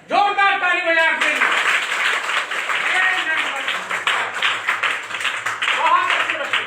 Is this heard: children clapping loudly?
yes